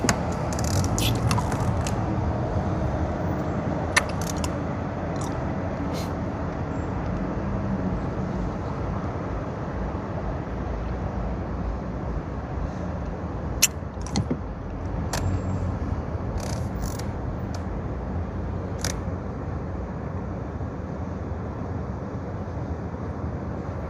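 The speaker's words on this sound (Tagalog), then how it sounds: "Lalong magta-traffic yan dahil nagdadatingan lahat ng mga tinwheeler" Dense road traffic on a congested route in Canada, with many ten-wheeler trucks arriving, makes a steady broad roar of engines and tyres that stays close and loud throughout, with a few brief clanks and knocks over it and no talking.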